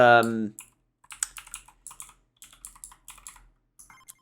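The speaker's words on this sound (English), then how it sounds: "let's move my keyboard out of the way a little bit so it's not as clicky for you people" Clicky computer keyboard typing in a burst of quick, close keystrokes during a Vampire Survivors gaming session, with a brief voiced sound at the start before the clatter.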